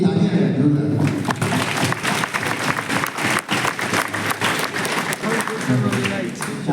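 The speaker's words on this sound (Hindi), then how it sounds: "ये तालियां हैं जोरदार" Loud audience applause at an Allen institute event in Kota celebrating a JEE Main perfect scorer: sustained crowd clapping with some crowd noise mixed in, running for several seconds.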